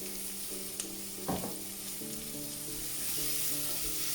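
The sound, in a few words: onions and chilies sizzling in hot oil with spices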